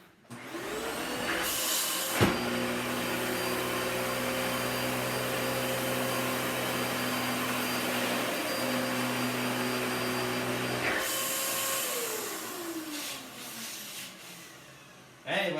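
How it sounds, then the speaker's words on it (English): A Dyson DC-14 vacuum cleaner spins up with a rising whine, runs loud and steady for about nine seconds, then winds down, heard close by. "Now, last but not least, the Dyson DC-14."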